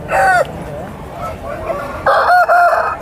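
Native roosters crow twice, loud and close, with clucking hens filling the gap between the calls, at the weekly market in Savaravilli, Vizianagaram.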